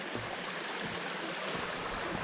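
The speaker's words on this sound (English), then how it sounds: "Baby waterfall again." A small waterfall flows along a forest hiking trail near Lake Rabun, a close, continuous rushing and splashing of water with no voices.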